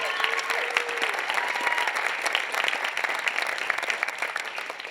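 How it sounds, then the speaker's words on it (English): A couple hundred guests at an awards gala break into sustained, full applause, a dense wash of clapping and crowd noise that holds steady before easing slightly at the end. "Give everybody a round of applause."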